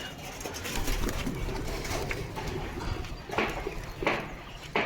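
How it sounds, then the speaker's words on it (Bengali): Pigeons on a house rooftop coo softly at moderate distance, with scattered short fluttering bursts and a faint voice in the background. "পায়রাগুলোকে উড়িয়ে ছাদে নিয়ে যেতে হবে"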